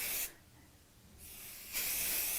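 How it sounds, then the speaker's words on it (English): A Crafter's Companion stick and spray adhesive can hisses in two short close bursts separated by a quieter gap, used while making a heart reverse applique sewing machine mat. "this is a Crafter's Companion stick and spray"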